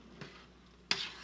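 Noodles stirred through a creamy Alfredo sauce with mozzarella, heard as two brief soft scrapes and a wet slop against the pan over a quiet sizzle.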